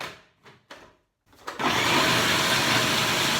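A kitchen blender chops raw cauliflower into rice. A few short bumps and a pause come first, then the motor spins up and runs as a loud, steady whir until the end.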